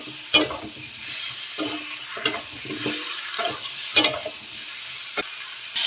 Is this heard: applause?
no